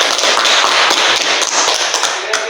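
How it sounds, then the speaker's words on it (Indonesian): A classroom full of people claps together in a dense, loud burst of applause that goes on steadily for a couple of seconds before it starts to thin out. "Aplaus dulu."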